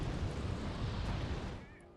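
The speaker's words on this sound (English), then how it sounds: "we're going to bomb them into oblivion" Bombing of cheap tanks in the Wargame Red Dragon video game, heard as a heavy rolling barrage of booms and rumble that stays loud, then thins and fades toward the end.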